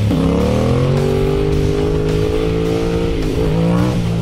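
Turbocharged Yamaha FZ-07 motorcycle engine running loudly and steadily up close, its pitch climbing slightly and holding, then dipping near the end as the revs shift.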